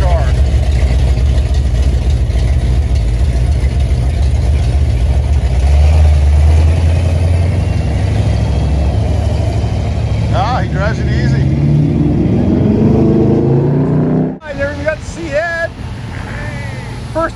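A Chevrolet Camaro muscle car rumbles at a car show rollout, its engine idling loud and close with a swelling rev in the middle, then cutting out near the end as people talk over the noise.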